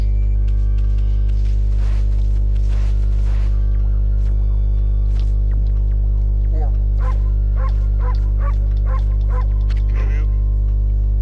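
A white wolf dog in the video game Okami gives a quick series of small yips and barks, mostly in the second half, over a loud constant game hum with scattered earlier sounds.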